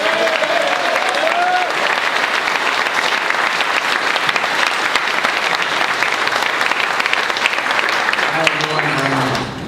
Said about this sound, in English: I'd like a big round of applause for former unified world champion Amir Khan